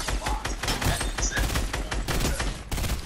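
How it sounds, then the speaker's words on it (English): Rapid bursts of gunfire from a shooter video game, dense and continuous across the whole stretch, loud and close with overlapping shots and no pauses. "He's shooting me."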